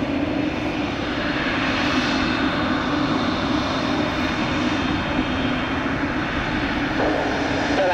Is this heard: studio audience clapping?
no